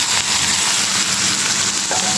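Tomatoes hit a pan of sizzling dal, and a steady, loud frying hiss carries on throughout with no clear break.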